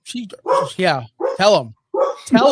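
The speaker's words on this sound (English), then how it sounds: "It's every time this couple walks by with their dog in front of my house that he can hear it." A dog barks at a couple walking their dog past a house, several sharp, loud barks in quick groups close by, mixed with a person talking.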